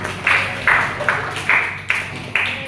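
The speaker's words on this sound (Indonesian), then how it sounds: "boleh tepuk tangan dulu dong untuk teman-teman" Classmates in a classroom clap for their peers, six evenly spaced, moderately loud bursts of clapping about half a second apart, with no voices over them.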